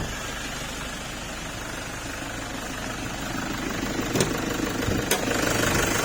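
A 2013 Toyota Vigo Prerunner pickup with a 3.0-litre VN turbo diesel idles with its engine bay open, giving a steady, close, rumbling drone with a faint knock and two brief clicks near the end.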